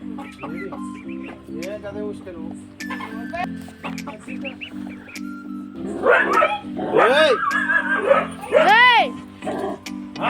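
A dog barks in short bursts amid a steady hum, with chickens clucking nearby and a voice talking over the noise, at a farmhouse.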